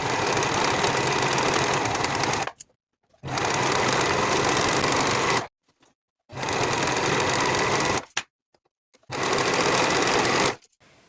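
A sewing machine finishes the side seams of a midi skirt's front and back pieces, running in four steady bursts of rapid stitching separated by short pauses, close and alone.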